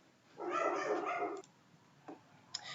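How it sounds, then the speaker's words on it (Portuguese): A dog barks in a short muffled burst, followed by a couple of fainter yips, heard from a room away over low background noise. "Eu vou ter que parar com os cachorros"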